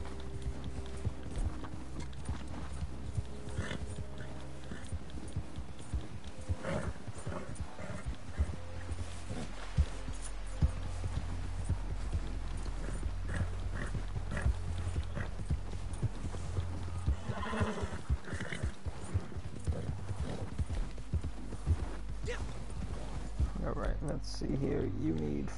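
Steady clip-clop of horse hooves with occasional whinnies in the video game Red Dead Redemption 2, under a constant low background hum and a voice speaking at times.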